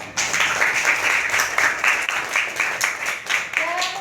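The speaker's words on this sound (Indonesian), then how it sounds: "tepuk tangan" Classroom applause for a pupil's correct answer: a burst of children's clapping, steady and fairly close, fading toward the end, with a voice talking over it.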